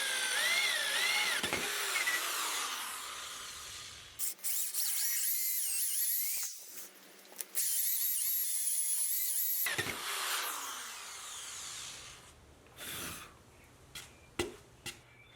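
A power drill spins a 1.5 inch hole saw through plywood, a loud, sustained high whine that cuts out and restarts several times, with short pauses and a few sharp knocks toward the end.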